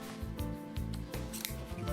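Scissors cut fabric along the selvage with a few soft, close snips and rubbing sounds, set against a low, continuous background hum.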